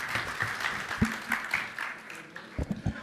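Scattered audience applause at an NFT.NYC 2022 conference talk, uneven claps of moderate loudness with a few sharper individual hits near the end.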